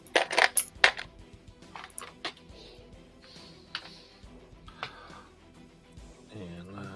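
Dice clatter and tumble on a table during a tabletop roleplaying game, a burst of sharp rattling knocks near the start followed by fainter scattered clicks, with soft sounds of play throughout.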